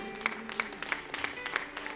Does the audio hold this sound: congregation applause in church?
yes